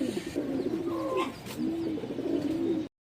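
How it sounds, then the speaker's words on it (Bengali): A red-toned Chuina female pigeon coos at a pigeon market, several low, throaty coos repeating close by with faint background bustle and no talking. "একটা চুইনা মাদি কবুতর আছে"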